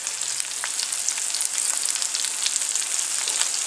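A scotch fillet steak sizzles in a pan of olive oil and butter over medium to high heat, a dense, even crackling hiss close by, with no speech.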